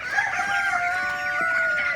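Broiler chickens on a farm cluck and crow close by, a drawn-out crow running through the short stretch with softer clucking around it.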